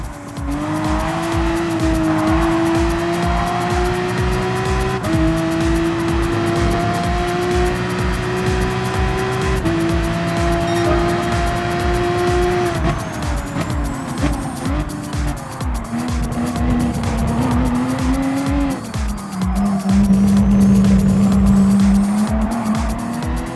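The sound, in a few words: race cars driving and skidding in Gran Turismo Sport video game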